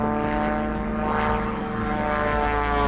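A propeller airplane flies low over a jetty at Ceduna during Oysterfest, its engine drone steady and loud throughout, with no talking.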